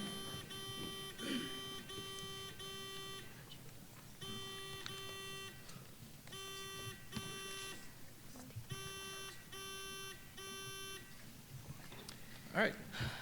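Quiz tournament buzzers at a championship academic match sound in short repeated electronic beeping bursts, several sets in a row with pauses between, as people talk quietly in the room.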